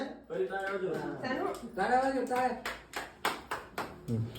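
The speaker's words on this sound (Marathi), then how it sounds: "टाळ्या वाजा टाळ्या वाजा" Family members at a home anniversary celebration clap in a short series of sharp hand claps, following louder talking, close and clear in a small room.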